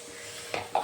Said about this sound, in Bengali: এই দেখো জল দিয়ে দিচ্ছি, কষানো হয়ে গেছে।